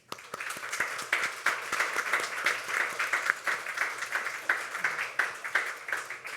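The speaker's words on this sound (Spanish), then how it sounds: "yo quiero que le den un aplauso" Audience applause at a Dominican philosophy panel discussion, steady dense clapping from a seated crowd with sharp individual claps standing out, sustained throughout at moderate loudness.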